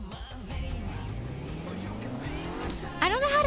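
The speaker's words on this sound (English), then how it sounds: "I don't know how to drift." A car drifting in a Roblox video game, its engine note rising and falling with tire squeal and skidding sounds, ending in a sharper screech.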